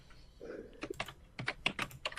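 Quick, uneven keystrokes clatter on a computer keyboard, fairly close and quiet, with no talking over them.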